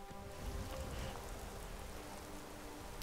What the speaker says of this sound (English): This rain, that's what's been